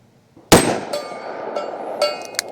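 A Taurus .327 Magnum revolver fires once in single action at a range, a sharp loud report followed by a ringing tail and faint metallic clicks afterward.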